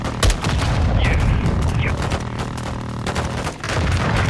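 Heavy Apache helicopter gunfire rolls continuously through a Call of Duty: Modern Warfare 2 battle, dense booming bursts in a loud wash of combat noise, with a brief dip near the end before resuming.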